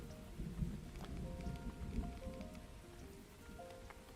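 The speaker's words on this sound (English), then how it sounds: "the rain in this game is like the best" Steady rain with low thunder rumbling underneath from the medieval town-building game Farthest Frontier, a continuous moderately loud downpour with scattered droplet ticks and faint tonal game sounds, no talking.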